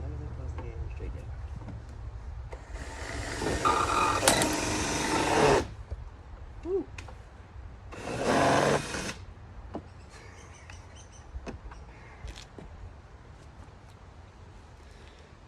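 Drill bit boring into a plastic part of a John Deere power wheel ride-on toy, two loud broadband bursts of a few seconds each, separated by a pause, with lower background noise around them.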